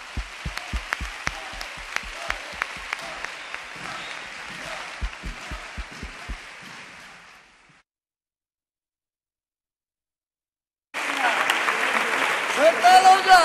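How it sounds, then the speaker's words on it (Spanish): Audience applause at a Peña La Fusión gathering, clapping with strong close hand claps for several seconds before dying into silence, then a loud burst of noisy sound returns. "Un aplauso"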